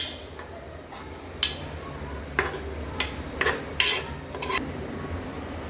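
Cooked moong dal is mashed in a pot for dal payasam, a run of soft irregular thuds and scrapes from the utensil against the pot, fairly close, over a low steady background hiss.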